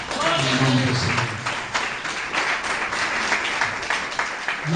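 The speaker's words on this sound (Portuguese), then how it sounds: "As palmas engrandecem" Worshippers clap during a home church service, a continuous wash of many hands clapping under a voice speaking over it.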